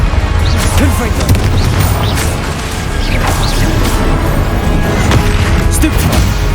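A Confringo blasting spell goes off in Hogwarts Legacy. Loud booms and crashes burst within a dense, continuous mix of combat effects.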